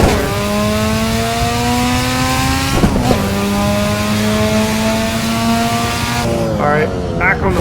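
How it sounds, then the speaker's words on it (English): A high-revving rotary-engine car screams steadily upward in pitch toward redline, dropping sharply at a shift and climbing again, loud and close, ending in a burst of rev blips. "It's letting the rotary sing."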